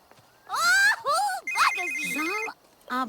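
A melodic electronic ringtone from a telephone in the video game The Sims 3 plays in bursts, with a sustained steady tone in the middle, mixed with chattering game voices.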